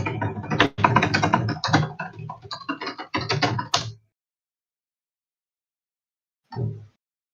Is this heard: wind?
no